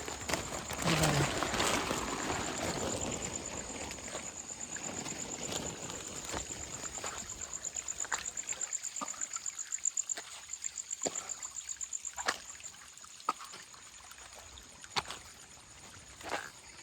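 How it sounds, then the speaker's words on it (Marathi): Water trickles and drips steadily from all around along a flooded riverside during crab catching, faint patters and light splashes over a soft continuous hiss, with sharper drip clicks scattered throughout. "वरती सगळीकडनं झिरझिर पाणी येते सगळीकडून."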